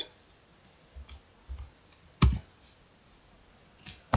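Mouse clicks at a computer while working in Android development software, a handful of soft, separate clicks with one sharper click near the middle, close up in a quiet room.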